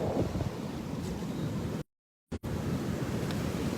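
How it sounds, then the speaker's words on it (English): Heavy ocean surf with big waves breaking, a loud steady roar of rushing white water and wind buffeting the mic, briefly cut to silence partway through before the roar resumes. "Heavy surf, big waves."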